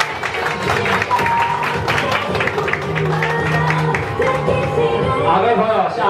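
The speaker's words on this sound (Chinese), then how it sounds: "那我们掌声给大龙老师" An audience at an Amway parent-child event in Tainan applauds to welcome a speaker, steady clapping from a room full of people with voices mixed in.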